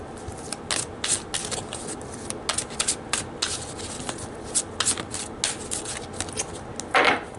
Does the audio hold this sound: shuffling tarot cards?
yes